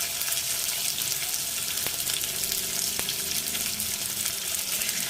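Onion, garlic and ginger paste hitting hot oil in a pan for an aar fish curry, a loud continuous sizzle and crackle with a couple of faint metallic taps, no voices.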